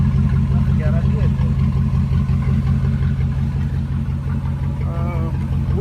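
A 2006 Dodge Ram 1500 SLT V8 with straight-pipe exhaust idling nearby, a loud, deep, steady rumble running throughout, with someone talking over it.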